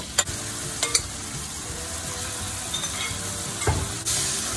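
Onion, green chilli, lemon and tomato are stirred into a pan of poha over medium heat, with a continuous sizzle broken by a few clinks and scrapes of the spoon.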